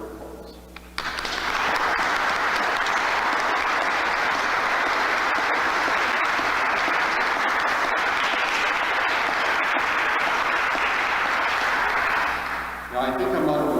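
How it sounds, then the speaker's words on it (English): Sustained applause for parish leaders and members during a bishop's homily in church, a congregation clapping steadily and loudly for about twelve seconds after a brief spoken moment, then fading out as a voice resumes. "I think you all deserve a round of applause."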